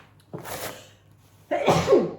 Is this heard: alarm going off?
no